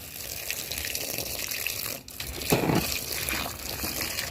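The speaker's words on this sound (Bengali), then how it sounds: "এই যে সবগুলো তখন জল দিয়ে দেবো।" Water splashes and gushes steadily as it is poured onto chili plants, close and continuous. A brief pause comes midway, then a heavier burst, and no one speaks.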